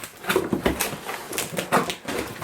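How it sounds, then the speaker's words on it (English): Someone tears open a cardboard box, giving repeated rough tearing and crinkling bursts in an irregular rhythm, close by, with no talking. "Rip open the box because I can't wait to get in it."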